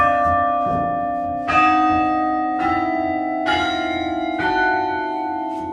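Large carillon bells of the Hoshiv monastery ring out loud and close, a few heavy strikes spaced about a second apart, each bright peal layering over the long hum of earlier bells.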